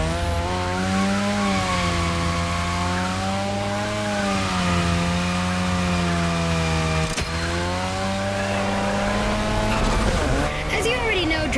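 Car drifting around a drift track in the racing game The Crew Motorfest: a loud, steady engine drone with shifting revs runs throughout, joined by tire squeal. Music or voices may sit underneath.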